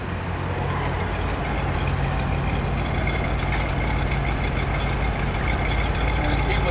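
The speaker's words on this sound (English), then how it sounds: "It's a 352, so that was the standard base engine for the Thunderbirds." A 1960 Ford Thunderbird 352 V8 engine with dual exhaust idles with a deep, steady rumble, heard up close, and its throttle rises slightly partway through.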